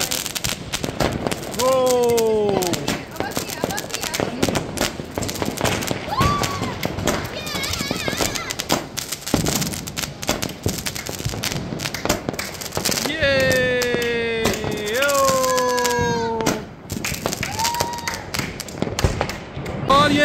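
Diwali firework shots bursting in rapid succession, a dense crackling barrage of pops and thumps mixed with rising whistles, with people talking and shouting nearby throughout.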